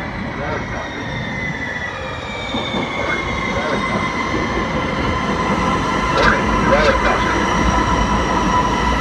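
A San Diego Trolley train rolls past a station crossing with rumbling wheels and faint squeals, loud and close, while an automated voice warning repeats in the background.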